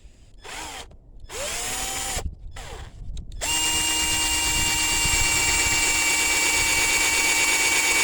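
A power drill fitted with a drill bit bores a hole, starting in short stop-start bursts and then running continuously with a loud, steady whine.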